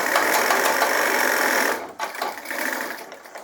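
Sewing machine stitching a pant seam while the fabric is pulled gently taut, a steady close whirring run for nearly two seconds, then a pause and shorter uneven bursts of stitching.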